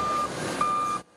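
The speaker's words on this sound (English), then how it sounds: "You can still hear the constant beeps from front loaders as they scoop big piles into dump trucks" Steady electronic reversing beeps from front loaders scooping snow into dump trucks during a city snow cleanup, a continuous tone sounding alone at moderate loudness before cutting off.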